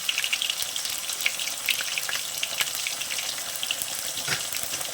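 Ginger and cumin paste sautéing in a pan for a Bengali shrimp and mixed vegetable curry, a soft continuous crackling sizzle with small irregular pops, fairly quiet and steady with no talking.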